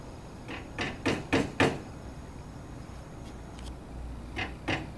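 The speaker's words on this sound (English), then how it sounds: "Take a finish nail and hammer one in each end of the cross piece as shown." Finish nails driven by hammer into the wooden cross piece of a homemade doormat, a quick cluster of four sharp impacts followed by a few lighter taps after a pause, close and fairly loud.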